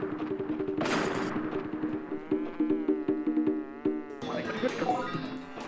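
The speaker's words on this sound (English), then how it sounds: "as you can see, we have a buttload of bees" A swarm of bees buzzes in the Crash Bandicoot 2 video game, a wavering insect drone layered over busy game music and effects throughout.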